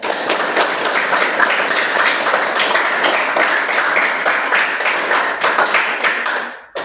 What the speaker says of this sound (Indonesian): give aplaus untuk kita semua